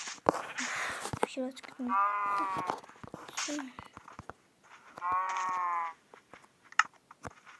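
Cows in the Minecraft video game give two long, tonal moos, each lasting about a second, with a player speaking in between and around them.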